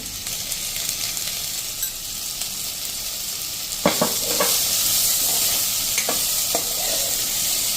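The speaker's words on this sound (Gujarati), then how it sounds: "અને હવે આપણે થોડીક ઢાંકી અને કેરીને કૂક થવા દેશું." Raw mango cooking in a pan for a sweet jaggery raw-mango curry: a steady close sizzle and hiss, with a few sharp stirring clinks partway through and no talking.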